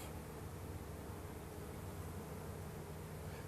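Honey bees at an apiary in Pointe-Fortune hum in a dense, steady swarm buzz that fills the whole moment at an even, moderate level, with no talking.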